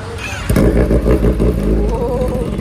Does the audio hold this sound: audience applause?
no